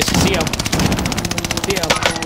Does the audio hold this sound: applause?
no